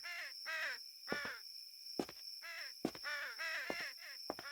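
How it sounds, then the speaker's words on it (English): Crows caw in a loud, repeated run of harsh calls within The Exit 8 video game, about eight raspy caws in quick bursts against a quiet background with a faint steady hum. "it's just birds flying"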